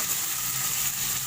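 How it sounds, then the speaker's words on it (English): Escabeche fish sautéing in a pan in a home kitchen, giving a steady, close hiss of frying sizzle that runs unbroken with no talk. "That our escabeche will become sauteed"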